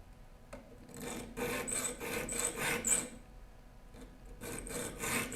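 A metal file sharpens the teeth of a large hand rip saw in rhythmic rasping strokes, one after another at close range, with a short pause before the filing resumes.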